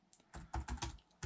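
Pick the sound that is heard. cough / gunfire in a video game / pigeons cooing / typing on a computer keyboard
typing on a computer keyboard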